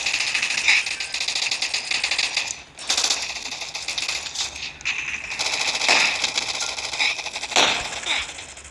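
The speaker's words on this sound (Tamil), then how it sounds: "நான் AK-47 தான் யூஸ் பண்ணுறேன்" AK-47 gunfire in an online shooter video game, rattling out in loud sustained automatic bursts with short gaps, while a player talks over the shooting.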